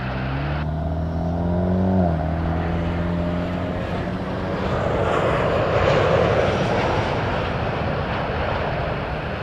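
A WestJet Boeing 737-800 airliner comes in to land at Toronto Pearson, its steady jet engine roar loud and close throughout, swelling slightly toward the middle with a falling whine early on.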